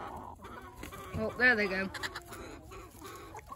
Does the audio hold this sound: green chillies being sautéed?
no